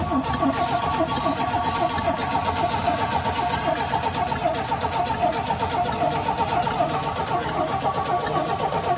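A 1972 Chevy C10 engine being revived cranks and catches on a test fire, running rough and loud with steady uneven chugging up close.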